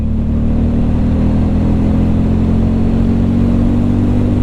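A Hero Hunk 440 motorcycle engine revs hard and steadily toward 6000 rpm, a loud, continuous mid-pitched drone with strong low harmonics that holds close to the microphone throughout.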